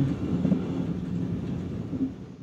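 A car-carrying train bound for the German island of Sylt rolls along with a continuous low rumble of wheels and carriages, plus some wind noise, and no voices.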